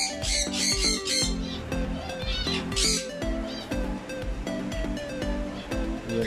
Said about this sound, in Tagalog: Papa Joey, ang ganda ng mga ibon.